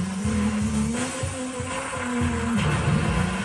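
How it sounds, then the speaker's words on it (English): A video game racing car engine revs in rising, repeating surges like gear shifts, steady and close, with no voices. "The engine noise is right in front of me"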